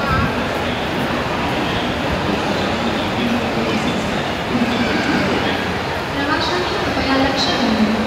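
A train rumbles inside a railway station, a continuous loud clatter with occasional high squeals, and a voice talks over it.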